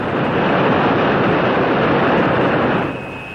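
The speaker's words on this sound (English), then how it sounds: "Be ready to cut my engine in 3 seconds." Loud, steady airplane engine roar with rushing wind that drops off abruptly near the end as the engine is cut, leaving a quieter gliding hiss.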